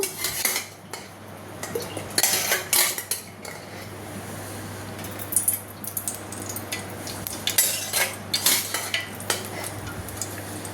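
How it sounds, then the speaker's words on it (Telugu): A metal pot clanks onto a stove and oil is added, followed by scraping utensils and clinking cookware over a steady low hum. "ఇప్పుడు వచ్చేసి గిన్నె పెట్టాను నేను ఆయిల్ వేద్దాము"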